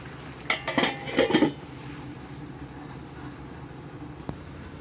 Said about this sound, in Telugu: ఒకసారి తిప్పుకున్న తర్వాత ఇప్పుడు మూత పెట్టుకోవాలి